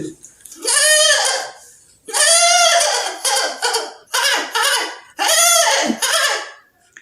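A voice imitates a goat bleating in four loud, wavering calls separated by short pauses, close to the listener.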